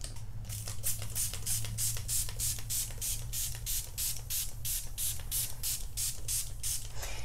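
Desizer is sprayed onto a 100% cotton shirt in rapid, evenly spaced bursts, about sixteen sharp hissing spritzes from a trigger bottle over a low steady background hum.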